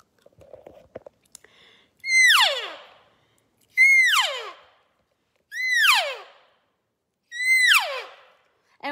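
A latex diaphragm call imitates the mew of a cow elk four times, each a high, descending whine of about a second with pauses between, clear and close, after some soft handling noises.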